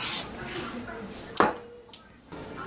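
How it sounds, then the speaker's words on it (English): A short hiss of non-stick cooking spray on a pan bursts out once in the middle, sandwiched between quiet background noise and soft kitchen sounds. "we're going to spray our pan"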